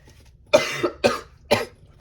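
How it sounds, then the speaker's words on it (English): Three harsh coughs in quick succession, close and loud, each followed by a brief raspy tail, with no speech. "I can't stop coughing"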